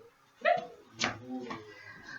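A dog plays with a dropped roll of tape indoors, giving short whimpering yips and vocal grumbles in a few separate bursts, close and fairly quiet.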